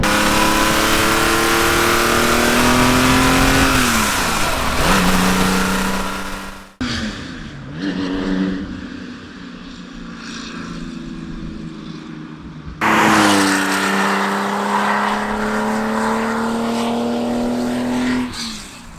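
A 1972 Porsche 911 E with a short-stroke 3.2 engine roars through its exhaust while being driven, loud and close, revving up through gears with sharp drops between shifts and rising engine tone.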